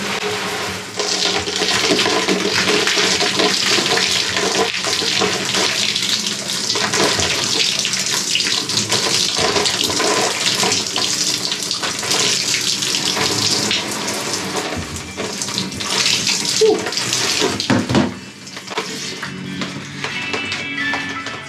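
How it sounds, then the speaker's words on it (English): Shower running cold at low pressure while rinsing a healing head after a hair transplant, a steady close hiss of spraying water that continues without pause, with slight shifts as the stream moves. "I've been using the shower on, you can only use cold water, on a really low pressure just to wash it off."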